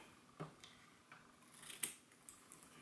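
Scissors snip through paper while binding a homemade book: a few separate, quiet cuts spaced apart, each a short crisp slice in a calm room with no talking.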